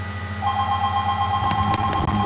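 A telephone bell rings indoors, its bright metallic trill starting shortly after the beginning and continuing over a low steady background hum.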